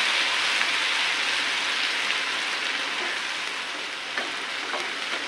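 Masala paste (vatan) sizzles in about two teaspoons of hot oil in a pan, a steady close-up crackling hiss that holds evenly throughout with small pops.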